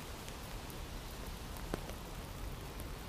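Rain falling in London around Kensington Palace Gardens, a steady faint patter and hiss with a few scattered drops, soft and continuous, with no talking.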